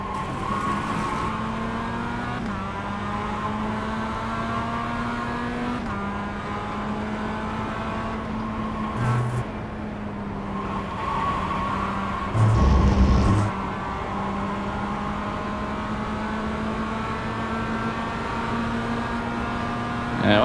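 A Mazda race car engine in the iRacing game drones steadily with gear shifts stepping its pitch, a brief tire screech midway, continuous and loud with no talk.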